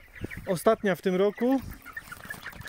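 Young broiler chickens in a new henhouse, clucking and calling in a close run of several loud bursts, with light speech nearby.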